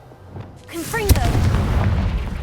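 A Confringo blasting spell explodes in the Hogwarts Legacy video game with a sharp, loud boom followed by a sustained rumbling blast. A voice is heard briefly just before it.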